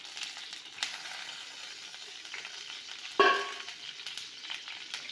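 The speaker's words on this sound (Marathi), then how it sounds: "आता आपल्याला पॅनमध्ये 2 पळी तेल घालून घ्यायचं आहे" About two ladles of oil heating in a pan on a gas stove, a steady close hiss of sizzling with a sharper crackling flare partway through, no talking.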